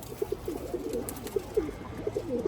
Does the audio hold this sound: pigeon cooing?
yes